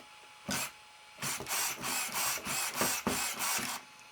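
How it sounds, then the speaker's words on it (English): Steering servos of an Arrma Senton 223S and a Traxxas Slash 4x4 VXL short-course RC truck whir in a series of short, loud mechanical bursts, about eight quick buzzing sweeps in rapid succession, with no talking. "Let's give a servo race here."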